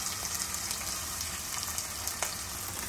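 Onions frying in a pan with a soft, continuous sizzle and faint crackles throughout, quiet and even, with no talk.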